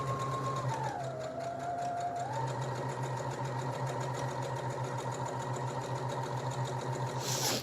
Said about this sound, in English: I'm going to try and, as neatly as I can, sew my felt on